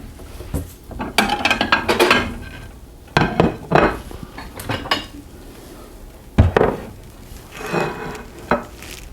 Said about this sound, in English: let me grab a plate and a bowl.